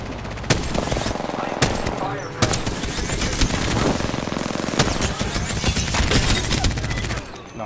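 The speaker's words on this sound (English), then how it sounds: "One sec, shooting up." Rapid automatic gunfire in a video game as a player shoots upward toward a roof, dense bursts of shots with sharp sporadic cracks over about seven seconds, loud and close, with voices chatting beneath.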